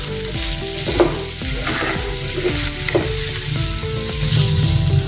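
Red chilli powder and half a spoon of cumin being stirred into a frying pan for a rice idli dish, with a steady sizzle of oil under repeated scraping strokes of a spoon, close and fairly loud, with no voices.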